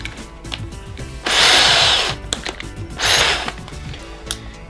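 A Metabo SB 18 LTX BL Quick 18V cordless drill bores into hardwood in two loud bursts, each under a second long. Quieter clicks and handling noises come between them.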